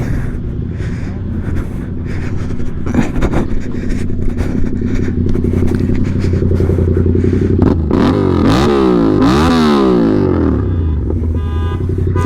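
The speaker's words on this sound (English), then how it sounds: "always revving his shit box" At a car meet, an engine revs hard and holds a loud, steady drone with changing harmonics that rise and fall. Near the end the pitch sweeps up and down sharply as the throttle is blipped.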